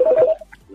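A short burst of telephone dialing tones as a live call is placed, a few quick beeps followed by faint, brief electronic blips.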